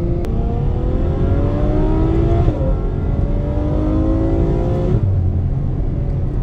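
Ferrari F12 supercar accelerating hard through a corner as the rear steps out, loud rising engine howl in two pulls, each ending in a quick shift-down in pitch, heard from inside the car over road roar.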